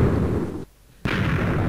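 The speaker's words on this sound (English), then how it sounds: "4-to-1 stacked cannon." Minecraft TNT stacked cannon, a 4-to-1 design, firing as dense, loud explosive booms that rumble on continuously, cut by a brief near-silent gap before the blasts resume just as heavily.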